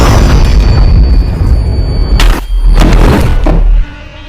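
A gunshot to the head from the film Don't Breathe lands as a loud, heavy boom amid dense, rumbling noise, followed by a brief thud before cutting to near silence.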